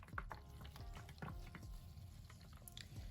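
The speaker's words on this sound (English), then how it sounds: "I am just gonna fill it up with water from this pitcher" Water poured from a pitcher into a home carpet cleaner's tank gives a faint, close trickle and splash that carries on steadily for a few seconds.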